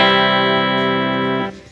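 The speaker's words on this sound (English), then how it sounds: "a great way to test this is to strum through big open chords." Single big open chord strummed on an electric guitar through a Fender Twin Reverb amp, ringing loud and sustained for over a second before being cut off abruptly.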